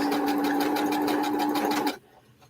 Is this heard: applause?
no